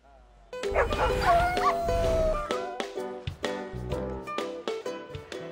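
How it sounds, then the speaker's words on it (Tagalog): Puppies playing hockey at an adoption event in America bark and yip in quick, lively bursts, with some whimpers, over a busy background that includes talk or music. "Puppies na nag-hockey, sila po ang bida sa kakaibang pakulo sa Amerika para ma-adopt ang mga tuta."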